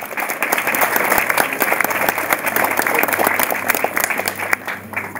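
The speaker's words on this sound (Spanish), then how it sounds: "que creo que se merecen un aplauso" The room at a press conference for the 2016 Pawkar Peguche festival fills with lively applause, many sharp claps layered into a loud, continuous roar, with a voice faintly audible beneath it.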